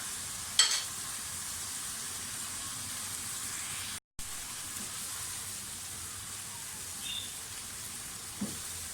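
Chicken keema fries in a pan with ground tomatoes, giving a soft, steady sizzle and hiss broken only by a couple of small clicks and a brief drop-out.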